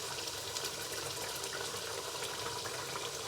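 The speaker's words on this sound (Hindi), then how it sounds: "तो ये 2 कप ही हम डालेंगे यखनी के।" Mutton yakhni broth is poured steadily into a pot for pulao, giving a continuous soft splashing, gurgling stream of liquid throughout at moderate level.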